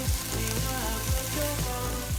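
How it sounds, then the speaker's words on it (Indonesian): Beef ribs simmer in bubbling soy sauce, a soft steady sizzle and bubble under a background music bed, with no voices. "tunggu sampai mendidih kecapnya dan iganya siap kita sajikan"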